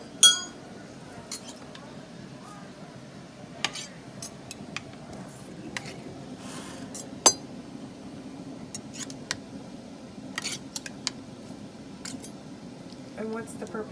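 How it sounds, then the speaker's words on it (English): A butter knife clinks and taps against glass canning jars filled with peach syrup, light scattered clinks repeating over a steady background hum, with a voice talking throughout. "you use a butter knife to chase the bubbles out"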